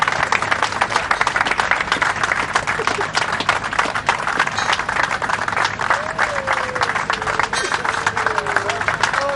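A crowd in Copiapó, the Chilean mining town near the rescue site, applauds steadily for a rescued miner's arrival, dense continuous clapping throughout with voices mixed in and a voice rising briefly over the crowd.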